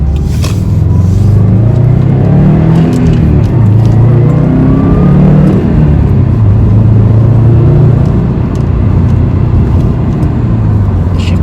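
A Subaru WRX/STI engine roars loudly and continuously, its pitch climbing and dipping as it revs hard through the gears, heard from inside the car.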